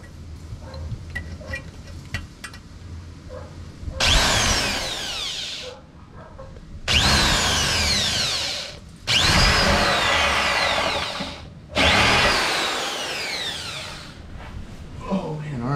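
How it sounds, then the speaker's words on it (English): A power drill whirs loudly in three long bursts with short pauses between, drilling a weep hole in a Ford F-150 EcoBoost, over quiet background noise. "So I'm going to go ahead and drill it and we'll see what comes out."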